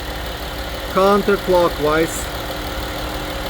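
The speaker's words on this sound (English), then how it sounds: "Okay, now I hope you'll be able to hear me, because the engine is quite loud." A Jeep Cherokee engine idles with a steady, low mechanical hum while its air conditioning is being recharged. Someone speaks briefly over the running engine.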